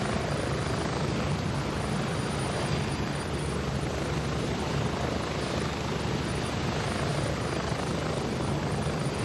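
Helicopter in the video game Gray Zone Warfare, a loud, steady rotor and engine roar that fills the whole stretch without letting up, heard from on board with no talk.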